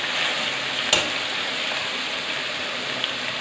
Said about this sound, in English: Just saute for about a minute.